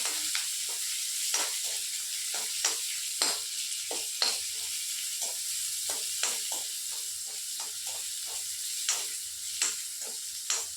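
Chopped onions fry for cabbage upperi, a steady sizzle broken by frequent sharp scrapes and taps of a spoon stirring the pan in an irregular rhythm, close and clear.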